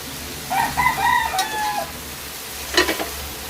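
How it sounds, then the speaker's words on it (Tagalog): Banana heart simmers in a pot for ginisang puso ng saging, giving a steady soft bubbling hiss. A rooster crows loudly nearby over it, followed by a short clatter. "Ayan lang muna natin siyang kumulo-kulo dito and tatakpan ko lang siya"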